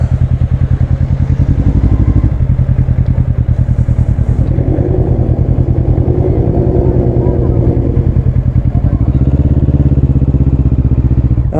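A motorcycle engine idles and putters loudly and close while pulling into a parking area, its rhythmic thumping continuous throughout.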